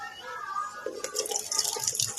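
Water from blanching, poured out of a pot in a home kitchen while making a Thai spicy salad, splashes briefly and trickles, close and moderately loud.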